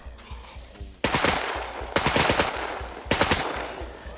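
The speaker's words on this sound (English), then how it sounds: "Oh, we're getting shot at." Automatic gunfire in the survival game SCUM, three loud rapid bursts of machine-gun shots about a second apart, each sharp and rattling, following a quieter stretch with no talk.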